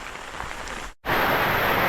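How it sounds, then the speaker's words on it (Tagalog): Rain falls steadily at Lake Holon as a dense, even hiss, broken by a brief silent gap midway, then resuming a bit louder and fuller. "Rainy."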